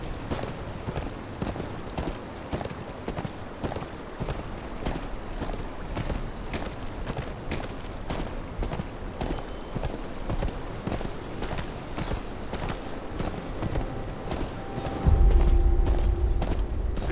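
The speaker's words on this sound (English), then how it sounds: "Where's your horse? Mount up and let's go." Horse hooves clip-clop steadily at a walking pace in Game of Thrones Kingsroad gameplay, a continuous rhythmic clatter, with a low rumble swelling in near the end.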